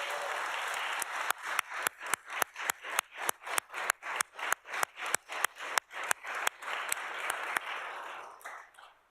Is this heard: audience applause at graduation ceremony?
yes